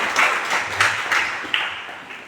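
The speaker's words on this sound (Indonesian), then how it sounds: "Berikan tepuk tangan" Congregation clapping at a Christmas church gathering in Sibolga, a short, loud burst of hand claps that swells and fades in a few waves.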